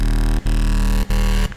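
Heavily distorted trap sub bass built in the Vital synth with sine fold and strong drive: three loud, sustained buzzing low notes separated by short gaps, dense and gritty, with no voices.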